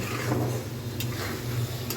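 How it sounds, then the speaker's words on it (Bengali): Beef tripe stir-fried in its own rendered fat in a pan, giving a steady close sizzle with scraping stirs and occasional light clinks of a utensil against the pot. "আস্তে আস্তে কষিয়ে আমি রান্নাটা করে নেব।"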